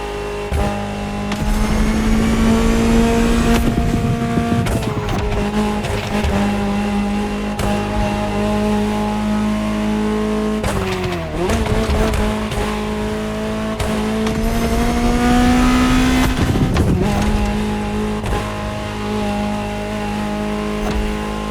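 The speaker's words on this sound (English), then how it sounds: "Just listen to the car you're driving." A loud, high-revving Ferrari engine in the video game The Crew Motorfest roars continuously, pitch climbing and dropping with gear shifts, close and dominant with no voices.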